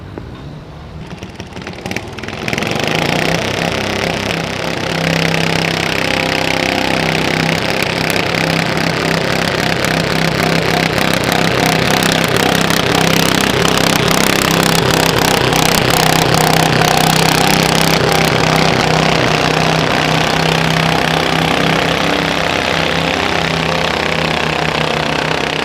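A garden tractor in the max stock class at a tractor pull fires up and runs loud and steady, a strained droning engine roar that holds at full throttle for the length of the pull.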